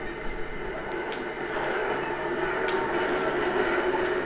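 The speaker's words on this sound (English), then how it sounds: "Yeah, baby, subway station!" A subway train rumbles steadily through a station in the video game 007: Agent Under Fire, a continuous broad roar that swells slightly partway through, with a couple of faint metallic clicks and no talk.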